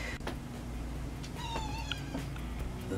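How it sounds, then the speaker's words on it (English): A house cat meows several times over a steady background hum, the calls fairly close but not loud. "my cat keeps bugging me while I'm recording"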